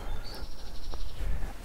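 In Rome, a parakeet gives a thin, high chirping trill that runs for about a second, fairly close and clear over faint low background rumble.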